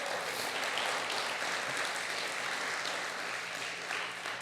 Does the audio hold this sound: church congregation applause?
yes